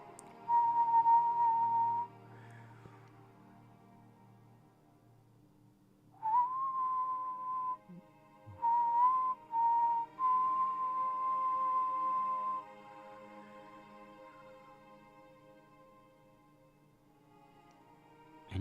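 A character in a video game whistles a song tied to memories of a girl, a clear solo melody in sustained phrases with long pauses between them and soft background ambience.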